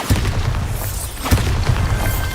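Bombarda spell blasts in Hogwarts Legacy, a magic explosion charm: two heavy booming bursts, one near the start and another about a second later, each with a rumbling low tail over steady game ambience.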